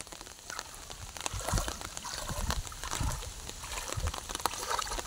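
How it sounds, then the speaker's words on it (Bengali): Floodwater is bailed by hand in a flooded village, giving repeated close splashes and sloshing pours at an irregular rhythm over a soft wet hiss. "পানি উঠাইতেছি"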